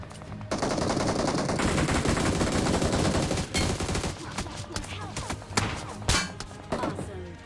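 Dense bursts of rapid gunfire in a PUBG Mobile-style battle royale game, including S1897 shotgun, crackle nonstop for several seconds, then break into scattered single shots and short volleys, loud and close with faint voices underneath.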